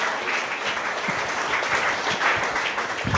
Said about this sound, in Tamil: கைத்தட்டி கர்த்தரை மகிமைப்படுத்து.